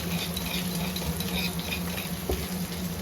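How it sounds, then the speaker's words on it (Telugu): Bitter gourd pieces with garlic chili powder frying in oil in a pan, a steady close sizzle with scraping stirring sounds and a low hum underneath. "ఇప్పుడు ఒక ప్యాన్ పెట్టుకొని అందులోకి ఆయిల్ని వేసుకొని ఈ కాకరకాయ పీసెస్ని అయితే వేసుకున్నాను"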